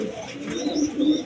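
Pigeons cooing nearby, soft low throaty coos in a short burst, with a faint higher chirp over them.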